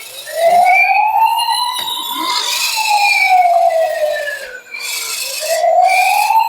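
A toy fire engine truck sounds its electronic siren, a loud close wailing tone sweeping up and down in repeated cycles with a short break near the end.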